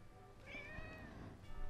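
A cat lets out a drawn-out, clear meow close to the microphone, rising and falling in pitch over a steady low background hum, with no talking.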